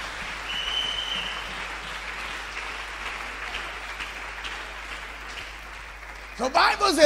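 A church congregation applauding the Lord, sustained clapping that rolls on steadily, with voices rising above it near the end.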